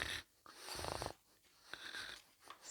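Congested nasal breathing wheezes and snorts in short rasping bursts, close and intimate, several uneven breaths with a whistling, snoring-like quality and no talking.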